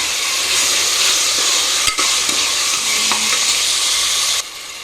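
Tomato and onions sauté in hot oil in a pan for a potato and pea kurma, with a steady loud sizzle throughout and occasional clinks of a stirring spoon.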